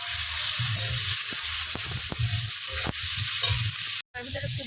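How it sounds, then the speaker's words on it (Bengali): Ground cumin, coriander powder, chopped ginger and chopped tomato frying in oil while being stirred, a loud continuous sizzle broken by repeated rhythmic scrapes and knocks of a spatula in the pan, with a brief silent gap near the end. "এবার তেলের ভিতর দিয়ে ভালো করে কষে নেব।"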